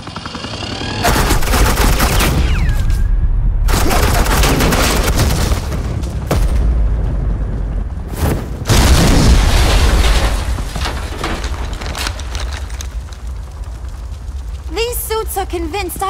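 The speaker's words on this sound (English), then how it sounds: "suppressing fire." In the video game Batman: The Enemy Within, suppressing gunfire erupts in loud, sustained bursts of rapid shots and booms, broken by short gaps, while voices talk over parts of it.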